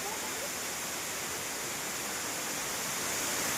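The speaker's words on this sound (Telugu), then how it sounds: "నిజంగా ఇంత జలపాతం నేను ఎప్పుడు చూడలేదు కదా" A waterfall near Sringeri Sharada Peetham gives a steady, loud, even roar of rushing water that fills the whole moment without any breaks or voices.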